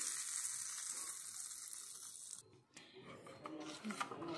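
A hot spice tempering sizzles with a bright, hissing crackle, then cuts off abruptly as it is poured into a cucumber-seed tambuli, followed by quieter rustling and stirring sounds, close but faint.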